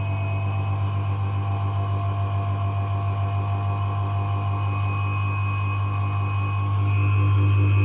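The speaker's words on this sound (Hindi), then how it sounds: "मोटर की आवाज़ आने शुरू हो गई है" Universal motor running on a lab test bench under load, giving a steady electric hum and whine that holds constant and grows slightly louder near the end, with no talking.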